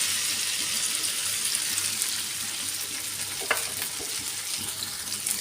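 Okra frying in hot oil in a home kitchen for a Bengali okra bhaji, a steady bright sizzle that holds throughout at close range, with a few small clinks partway through.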